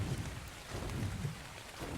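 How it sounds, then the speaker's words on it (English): Rain pours in the video game Ark. It makes a steady, dense hiss with a low rumble underneath and keeps an even level throughout, with no voices. "Here comes the rain."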